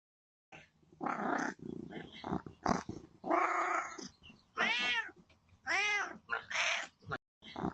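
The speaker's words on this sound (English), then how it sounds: "This cat was letting his owner know that he wanted to come inside." A cat meows repeatedly to be let indoors, a series of loud, close, drawn-out calls with short gaps between them, some rising into strained, growling tones.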